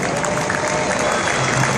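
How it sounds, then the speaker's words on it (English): A circus crowd in Fargo applauds and cheers to welcome a performer, a loud dense wash of clapping filling the whole short stretch. "Let's give a big welcome and applause to the man Sturlaugson."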